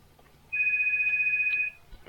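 A phone ringtone sounds once as a single steady electronic tone lasting just over a second, fairly loud against a quiet background, then stops.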